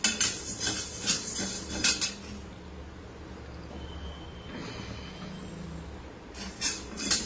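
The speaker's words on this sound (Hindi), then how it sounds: "अब हम साबूदाना डाल देंगे, ये भी हमें भून लेना है।" Sabudana and poha dry-roast in a pan, marked by bursts of rattling and scraping as a spoon stirs the dry grains against the metal, then a quieter pause before the stirring returns, with no talking.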